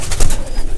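Pigeons in a breeding loft give soft, low cooing close by, a few muffled pulses over a steady murmur of background noise.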